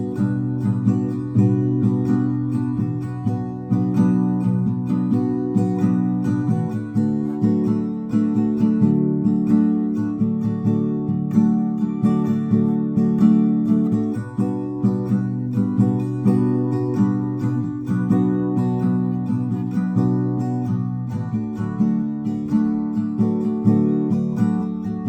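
Acoustic guitar strumming a four-chord progression in a steady, repeating pattern, each chord held for two bars, played alone and close at a constant level throughout.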